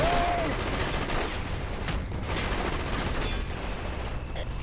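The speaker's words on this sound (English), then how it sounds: "I'm watching the tracer rounds go like right by you" Sustained automatic machine gun fire in the shooter video game Killzone 2, dense rapid bursts with tracer rounds, loud and continuous throughout with a couple of brief lulls.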